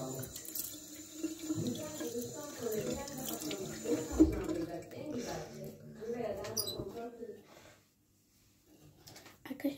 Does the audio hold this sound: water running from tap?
yes